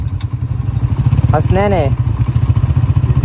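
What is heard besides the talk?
motorcycle riding on rough steep track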